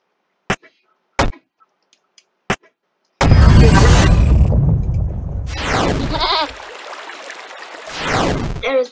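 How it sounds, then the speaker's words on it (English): A goat bleats loudly in the puzzle video game There Is No Game, a long wavering cry after a few sharp clicks, followed by further bursts of game sound effects. "There's the goat."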